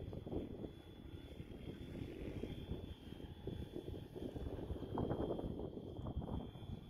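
A Flywing FW450 RC helicopter converted from belt to gear drive, flying at a steady head speed, with a continuous whirring rotor drone and a thin high whine, moderately distant, with wind rumble on the microphone.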